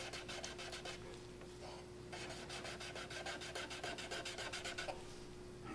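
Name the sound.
scrubbing a Jeep gauge cluster lens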